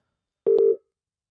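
A phone gives one short electronic ring tone, a single clean beep of under half a second, heard alone against silence.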